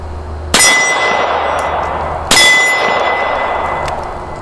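Test firing of a World War 2-era French 1935A pistol: two loud, sharp reports about two seconds apart, each followed by a ringing, metallic decay.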